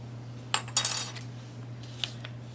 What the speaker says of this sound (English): The ginormous spoon.